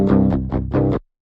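Metal guitar played through amp simulator plugins, heard alone as four loud, distorted chord hits, the last one sustained before an abrupt cut to silence.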